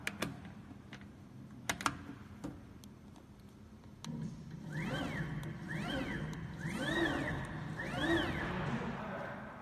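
Spindle 1 of a double-head CNC router runs alone, starting after a few sharp clicks and building to a steady motor whine that repeatedly rises and falls in pitch in four smooth sweeps.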